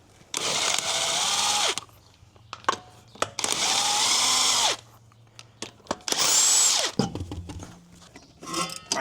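Impact wrench zipping lug nuts off a 2017 GMC Yukon wheel during a suspension leveling kit install, three loud sustained whirring bursts of about a second or more each, separated by short pauses with small clanks between them.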